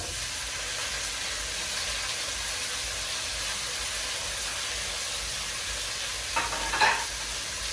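Tomatoes go into a pan of sizzling garlic while fish is being cooked, giving a steady, moderate frying hiss with a brief stirring scrape and a sharper sizzle burst near the end.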